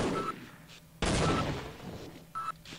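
Automated turret gunfire in the video game Half-Life: Opposing Force, heard as a loud burst of rapid shots that cuts in suddenly, with a shorter second burst following a moment later.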